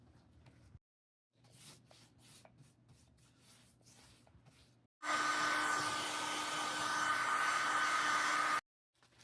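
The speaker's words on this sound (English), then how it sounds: "I'll hit it with the hairdryer" A hair dryer roars on steadily for several seconds with a loud, even whoosh and a high whine, drying a freshly painted coat on a homemade house number, preceded by quieter rubbing and shuffling sounds.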